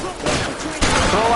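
Shotgun blasts in the L.A. Noire video game, two loud close booms less than a second apart, with game noise around them.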